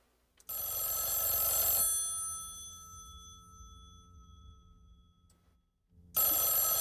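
A telephone bell rings loudly in a long, bright trill, falls silent, then starts ringing again close by, with no voices.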